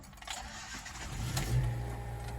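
A 1974 Datsun 620 tow truck engine cranking and catching, then settling into a steady low idle, close by and alone with no voices.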